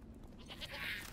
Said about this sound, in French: Oh la chèvre.